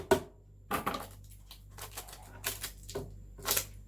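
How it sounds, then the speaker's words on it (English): Sellotape pulled off the roll and pressed down onto paper, several quick crackly tearing and rubbing bursts separated by short quiet gaps, close and without talk. "I would usually use masking tape, but we ran out, so sellotape it is."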